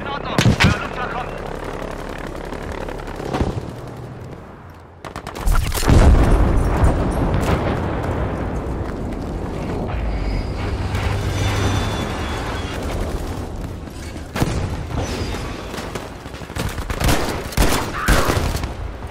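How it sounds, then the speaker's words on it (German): Heavy booming blasts and rolling gunfire from a V1 air strike in the Battlefield V video game, loud and sustained over many seconds, with a deep impact surge partway through and in-game voices in German. "Anfrage für einen V1 Luftschlag auf diese Position. In Ordnung, der Luftschlag kommt."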